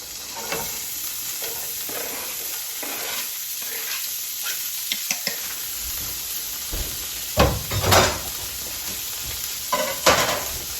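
Stirring and frying an omelette with meat and onion in a pan on a stove: a steady sizzle runs throughout, broken by scraping and stirring strokes, with louder bursts of clatter near the end.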